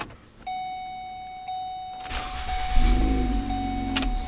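A Ford car starting on a newly programmed ignition key: steady electronic dash chimes ring first, then the starter cranks and the engine catches into a low, loud running rumble.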